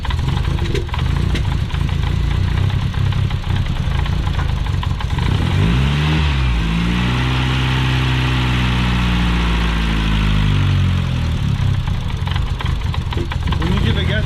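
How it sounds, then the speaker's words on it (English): A big turbocharged car engine idles loudly up close, then is given a little gas and revs rise and hold steadily before settling, with a person talking over it. "Give it a little bit of gas, just a little bit. Yeah, just hold it there."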